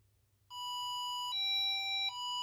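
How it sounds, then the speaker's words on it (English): A small Arduino piezo buzzer sounds a flood alarm, sharp electronic beep tones that step between pitches in three steady segments, loud and clean over near silence. "alarm immediately sounds"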